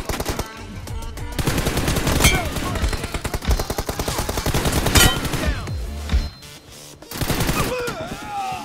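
An M4 rifle fires in a video game team deathmatch, loud rapid automatic bursts running almost continuously with short pauses, mixed with other shots and game effects.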